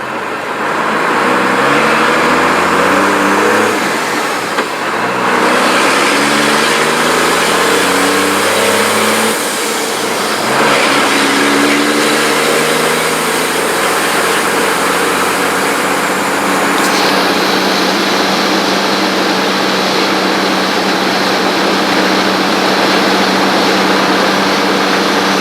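A boosted car engine accelerating hard through the gears, loud rising revs broken by brief dips at each shift, then holding a steady high drone in fourth gear, close and alone without talk.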